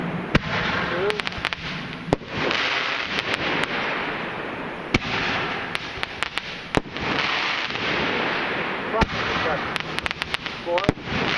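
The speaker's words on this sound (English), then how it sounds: "So let's do a normal Roman candle." A Roman candle at a live fire demonstration fires a string of shots, each a sharp pop followed by a crackling burst, over steady outdoor rumble and wind noise with people talking.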